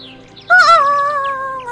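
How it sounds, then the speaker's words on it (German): Bird chirps in the video game AER Memories of Old, a clear, close, rising-and-falling warble that sets in suddenly after half a second and holds over a faint steady background tone. "Ganz viele Vögelchen."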